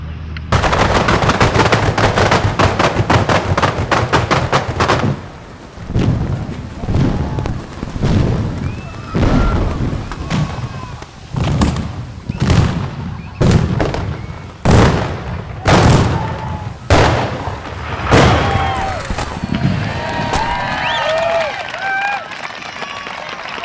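Explosive charges fire bursts of paint across a Toryglen housing estate for a Sony Bravia advert, a loud rapid sequence of booming detonations thinning to scattered blasts, with voices shouting over them.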